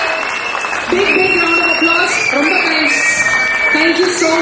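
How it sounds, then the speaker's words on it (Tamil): Audience applause following a silambam martial arts performance by a Tamil school in Eindhoven, Netherlands: sustained clapping and cheering from a crowd mixed with children's shouts and voices, loud and continuous throughout. "Big round of applause."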